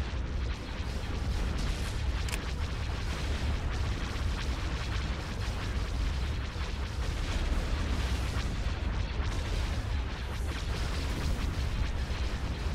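Weapons firing in the Star Wars Empire at War space battle game, a dense, continuous rumble of booming blasts and low explosions, loud and steady throughout.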